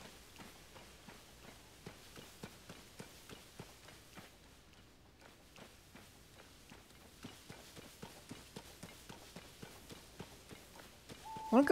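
Horse hooves clip-clop steadily in the video game Zelda Tears of the Kingdom, an even rhythmic trot that pauses briefly midway and resumes, moderately close, ending with a sudden louder burst.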